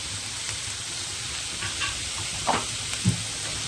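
Ground cumin, chili powder and salt fry in hot oil with a soft, steady sizzle, punctuated by a couple of faint stirring scrapes.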